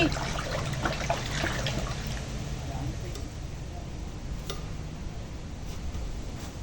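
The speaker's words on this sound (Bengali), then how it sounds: "এই দেখো গাছের লেবু দুটো ধুয়ে নিয়ে চলে যাই, কাটবো।" Fresh lemons from a home tree are rinsed under a running kitchen tap, giving a steady, fairly quiet trickle and splash with faint ticks throughout.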